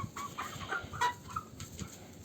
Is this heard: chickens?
yes